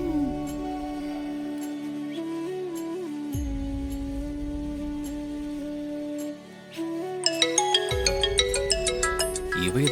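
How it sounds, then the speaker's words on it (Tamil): A phone ringtone plays an incoming-call melody of repeated synthetic notes, loud and close, with a brief dip before the tune resumes more brightly. "இவ எதுக்காக இப்ப எனக்கு கால் பண்றா?"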